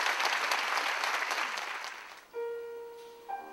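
An audience at a concert hall applauds as a pianist takes the stage for a recital, a steady wash of clapping that fades out as a soft sustained tone begins.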